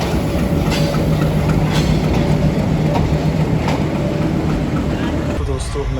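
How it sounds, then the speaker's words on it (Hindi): The Karachi Express, hauled by locomotive 8083 HBU20, rumbles loudly along the rails with rhythmic wheel clacks throughout, and a voice speaks over the noise. "8083 HBU20 के साथ कराची एक्सप्रेस।"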